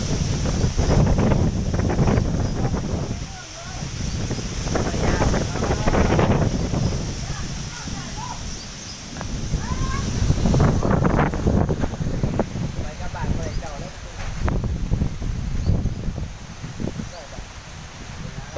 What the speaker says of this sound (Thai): ลมแรงจริงๆ